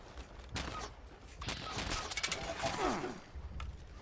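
Survival weapons fired in the video game Fallout 76, rapid clusters of fairly quiet gunshots and impacts spread across a few seconds.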